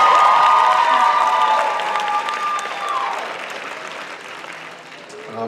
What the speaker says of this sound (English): So graduates, how about acknowledging your parents with a round of applause?